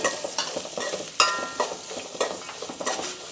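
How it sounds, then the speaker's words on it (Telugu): Sliced onions and chillies frying in a pan with shahi cumin for jeera rice, a busy close sizzle with repeated stirring scrapes and spoon knocks throughout. "కట్ చేసి పెట్టుకున్న ఆనియన్స్, చిల్లీస్ కూడా వేస్తున్నాను. ఇవి మనకి బాగా ఫ్రై అవ్వాలండి."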